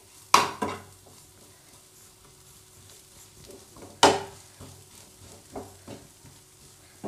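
Garam masala is stirred into a cauliflower filling in a pan: a few sharp metallic clanks and scrapes of a spoon against the pan, spaced irregularly, over a faint sizzle, with no talking.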